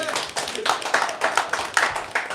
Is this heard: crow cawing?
no